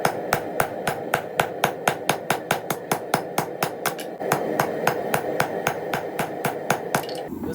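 Hot steel is hammered over a cutoff hardy while forging cabinet door handles, about thirty sharp ringing blows in a steady, even rhythm, loud and close, with a brief break near the middle.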